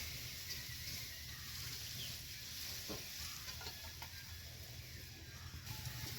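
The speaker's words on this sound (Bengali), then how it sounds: "আমি দু তিনবার জল পাল্টে পাল্টে ধুয়ে নিচ্ছি" Raw papaya pieces are rinsed and swished in a bowl of water, giving a steady wet sloshing hiss with a few soft splashy knocks, close and fairly quiet, with no talking.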